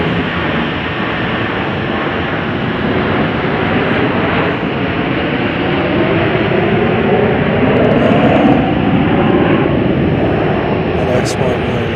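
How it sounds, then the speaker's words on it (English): A Boeing 757 taking off from Chicago O'Hare bound for LAX, a broad steady jet roar held at high level throughout, heard from a distance with no distinct voices. "We're going to catch the 757 takeoff to LAX"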